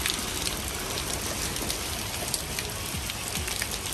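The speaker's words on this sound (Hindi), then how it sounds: "अभी देखो भाई थोड़ी कम हो गई है बारिश।" Steady rain falls outside a shop, a dense, even hiss of drops on surfaces, close and continuous with no talking.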